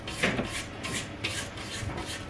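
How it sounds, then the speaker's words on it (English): Repeated rasping scrapes of a spatula against a stand mixer bowl, gathering Victoria sponge cake batter with the machine stopped, close and steady for a couple of seconds with no talking. "you can stop your machine and scrape the mixture properly"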